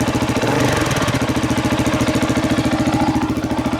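Close, loud idle of a motorcycle engine, a steady rapid low thumping pulse with a faint clattery edge, holding evenly throughout with a brief small revving swell, no voices.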